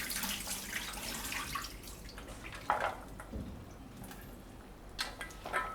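Soya chunks being rinsed by hand in water in a home kitchen, a soft running-tap and dripping wash with light splashes, a brief clink near the middle, steady and fairly quiet.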